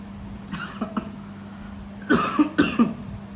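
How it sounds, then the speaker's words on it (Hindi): Two pairs of coughs, first a soft double cough, then a louder, harsher pair a second later, with a low steady hum underneath. "खांसी हो गई है"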